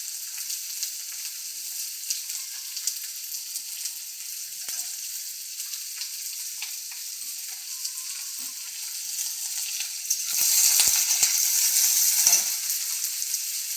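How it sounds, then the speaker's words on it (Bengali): Four or five onions frying in a pan with ginger, a steady close crackling sizzle that swells louder near the end as they are stirred, with a few light utensil knocks. "লাল লাল করে ভেজে নিচ্ছি"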